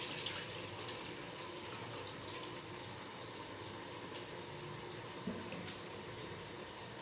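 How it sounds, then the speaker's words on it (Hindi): Full-fat milk poured into a pan on a stove flame, a steady continuous liquid rush that stays even throughout, with no talking. "फिर फुल फैट मिल्क हमने इसमें डाला"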